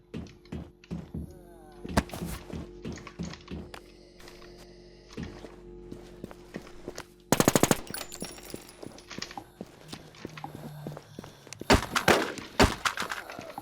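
Gunfire in the video game NewZ, a mix of sharp single shots and quick automatic bursts, with a dense loud volley partway through and more shooting toward the end, set against quiet background sound.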